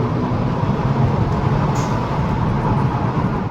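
A 2015 Volkswagen Scirocco GP with a small turbocharged petrol engine pulls at full throttle, giving a steady, loud broadband drone with road and wind noise that holds unbroken for several seconds.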